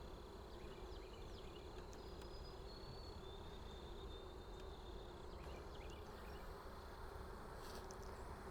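Dense, steady droning hum of honeybees at an open hive, continuous and close, with a few faint higher passing buzzes of individual bees.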